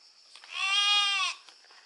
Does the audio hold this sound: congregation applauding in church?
no